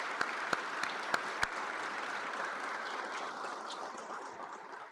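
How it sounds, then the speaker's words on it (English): A crowd claps steadily at an outdoor groundbreaking ceremony for a USDA precision agriculture research center, a few sharp louder claps standing out early before the applause gradually thins. "So please, big round of applause for Nebraska delegation."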